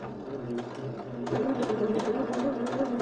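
A sewing machine runs a blind hem stitch along the folded lower hem of a garment, a steady mid-pitched motor whir with a rhythmic needle chatter that keeps going throughout and picks up slightly partway through.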